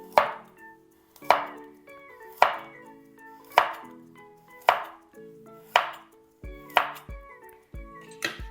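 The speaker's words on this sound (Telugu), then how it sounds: "ఇలా కట్ చేసిన తర్వాత మనం క్రాస్గా కట్ చేసుకుంటే పీసెస్ రౌండ్గా పొడవుగా వస్తాయి" A knife chops carrots crosswise on a board for salad, landing about eight crisp, evenly spaced strikes, each a sharp close knock with a short ringing tail, alone with no talk.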